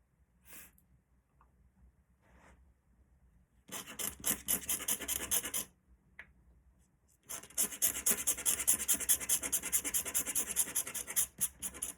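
Pen nib scratching and rasping across paper while scribbling an ink illustration, coming in two long dense bursts of rapid strokes after quieter, sparse marks, close and fairly loud with no voices.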